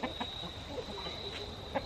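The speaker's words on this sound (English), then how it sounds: "My duck's fighting with my chicken," A backyard chicken clucks in short, scattered bursts while scuffling with a duck, faint and somewhat distant over a steady high background hiss.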